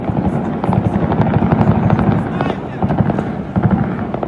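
Dense bursts of small-calibre machine gun fire rattle continuously in a war video, filling the clip with rapid crackling over a heavy low rumble, with no clear pauses.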